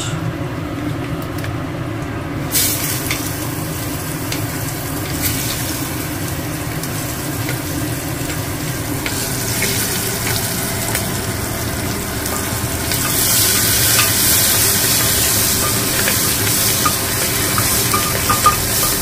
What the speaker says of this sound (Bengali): এই মশলাগুলো ফাটছে, এইবার দেবো হচ্ছে তোমার পেঁয়াজ